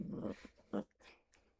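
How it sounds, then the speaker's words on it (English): Pet dog growling softly up close, a low rumbling burst followed by a couple of short whimpering catches, fairly quiet indoors. "I think I scared my doggy a little bit."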